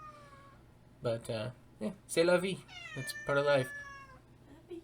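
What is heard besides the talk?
pet cat meowing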